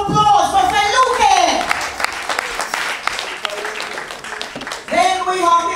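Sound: audience applause

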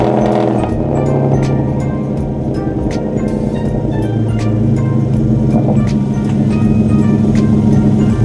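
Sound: Genesis car engine starting and moving

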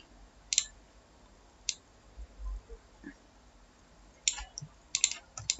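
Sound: computer mouse double-clicking in Unity

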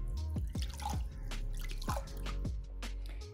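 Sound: clay pot soaking in water, bubbles forming

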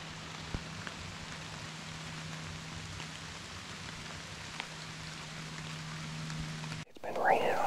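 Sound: rain falling in the woods

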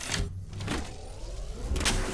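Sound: shield recharging in Apex Legends video game

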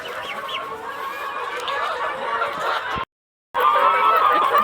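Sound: chickens clucking while pecking at feed

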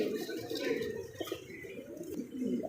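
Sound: pigeon cooing

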